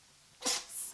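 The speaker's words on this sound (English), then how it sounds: "The cat's right next to me. She's just sneezing and she's spraying all over my arm." A cat sneezes once at close range, a sharp burst followed by a softer hissing trail, in an otherwise quiet room.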